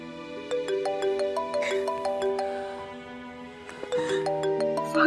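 A mobile phone ringing with a bright, repeating electronic melody in stepped notes, moderately loud and steady across the moment, no talk over it, in a drama scene.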